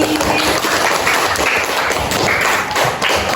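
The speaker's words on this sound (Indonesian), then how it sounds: "Oke, tepuk tangan untuk Nali." Classroom of primary pupils clapping for a classmate, a dense, steady patter of many hands close by that fills the whole stretch without pause.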